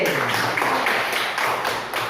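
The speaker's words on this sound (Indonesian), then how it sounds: "Tepuk tangan lagi." A classroom of pupils clapping together on cue, a dense, even burst of hand claps in a quick rhythm, close and fairly loud for about two seconds.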